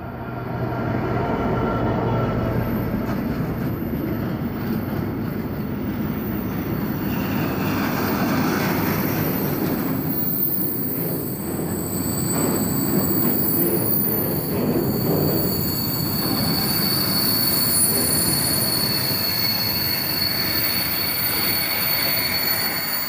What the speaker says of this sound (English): we have a Deutschbahn Schenker about to pass by